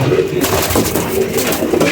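Pigeons in a loft coo repeatedly, soft throaty calls that come close together and sit near the microphone, with faint background noise and no talk.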